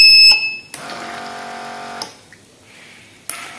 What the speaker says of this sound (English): Beep sound will come, then after that the motor water pump will pump the water.